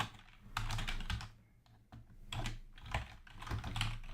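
Typing on a computer keyboard while entering C code, with bursts of key clatter separated by brief pauses, close and moderately loud with no talking.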